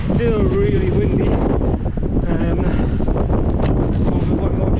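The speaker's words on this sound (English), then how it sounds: "Still really windy." Strong wind roars and buffets the microphone in a steady, loud rush on a South Lakes e-mountain-bike route, with a voice briefly audible beneath it.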